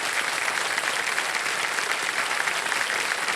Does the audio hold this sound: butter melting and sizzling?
no